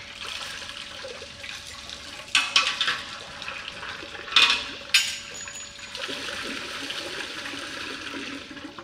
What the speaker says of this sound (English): You've got the bottom valve first, which will let a bit of water out.